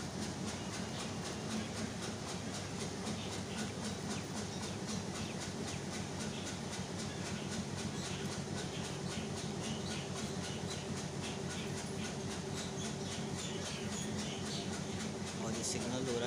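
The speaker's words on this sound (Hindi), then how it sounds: "धमाका एक्सप्रेस जोड़ा करनाना रेलवे स्टेशन पे अराइवल ले गई है।" The Dhamaka (Chenab) Express pulls into a railway station with a continuous rumble and clatter of wheels on track, steady and fairly loud throughout, with faint voices mixed into the background.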